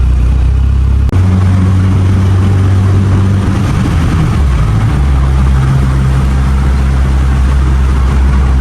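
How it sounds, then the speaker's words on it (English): Loud, steady low engine drone from a turbocharged Mitsubishi Evo 8 with a loud wastegate, a sharp transient near the start and the pitch shifting midway as the engine changes load. "wastegate's kind of loud"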